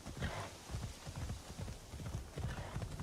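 Rhythmic hoofbeats of a horse galloping in the video game Assassin's Creed Shadows, a steady clopping pattern that runs throughout at moderate loudness with no talking.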